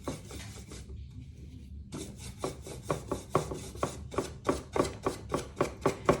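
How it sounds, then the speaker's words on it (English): A paint lid or brush swipes repeatedly across the top of a stool, a close, rhythmic series of rasping strokes that settles into a steady back-and-forth after a brief pause. "I'm going to start with just using my lid, and I am just going to make some swipes across the top"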